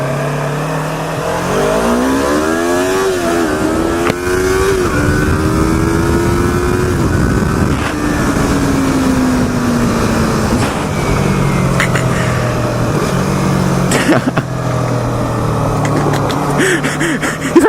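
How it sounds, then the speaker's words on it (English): A Yamaha R3 motorcycle engine revs hard at high RPM, its loud, continuous whine rising and falling in pitch as it climbs through the gears, heard close and steady throughout. "when this bike gets up in the RPMs, it goes."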